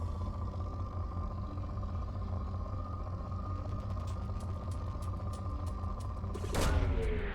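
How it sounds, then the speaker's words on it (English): A Mass Effect 2 probe launches with a faint low hum, then a brief sharp whoosh and burst near the end that falls away quickly. "Probe launched."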